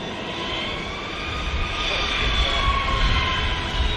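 An EasyJet airliner's jet engines roar at the start of runway 23R at Manchester Airport, a loud, continuous rumble that swells gradually as the aircraft powers up.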